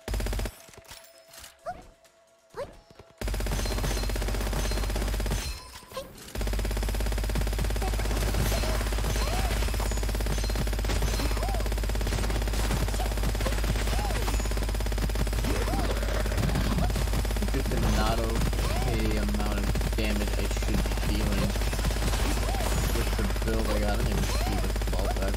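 Unlimited-ammo gun firing continuously in the shooter game Gunfire Reborn, a dense stream of rapid shots running under steady game noise and a talking voice, after a brief quiet gap near the start.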